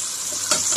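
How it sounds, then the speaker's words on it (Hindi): Onions, tomatoes and green chilies frying in a pan for mixed vegetables, a continuous close sizzle with brief bursts of crackle, no talking. "इनको फ्राई कर लेंगे 2 मिनट।"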